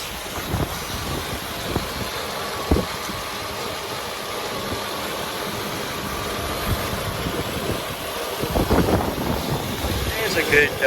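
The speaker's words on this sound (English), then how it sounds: "Here's a good sense of what this engine sounds like. It idles easily." A 1984 Mercury car engine idles easily with a steady low rumble, with some wind noise and a few brief knocks and rattles near the end.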